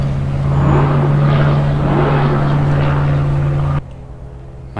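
An airplane drones overhead in a steady, moderately loud hum with a strong low tone, holding for several seconds before cutting off abruptly, leaving near quiet.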